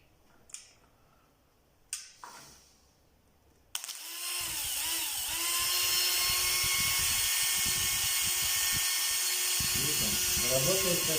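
A repaired Bosch or Makita power tool motor spins up after a few clicks and taps, then whines steadily and loudly with a high pitched tone, running alone with no talk over it.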